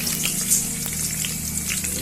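Bay leaf, garam masala, cinnamon and cloves frying in hot ghee make a steady, close crackling sizzle with small pops, continuous and alone throughout.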